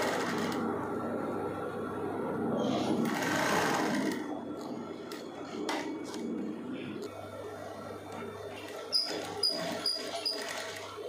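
A domestic sewing machine hums steadily while stitching a folded-in blouse piece, running loud for about four seconds, then fading into quieter, intermittent bursts with small clicks near the end; someone talks over parts of it.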